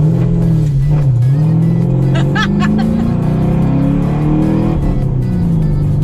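A Chevrolet Camaro SS fitted with a Pedal Commander revs hard toward redline through a slow U-turn, a loud continuous engine drone rising and falling in pitch with brief higher whines, heard close and steady throughout.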